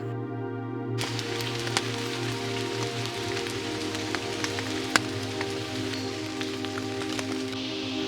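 Rain falls steadily on a tent pitched at a campsite during a trek, a dense patter of drops with occasional louder individual hits, starting abruptly and continuing evenly, with a low steady hum underneath and no talking.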